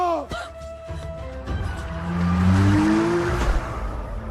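A car is forced to stop by the car in front of it on a road, its tyres screeching. The engine roars up loudly and close, and a rising squeal is held for a couple of seconds before it cuts off.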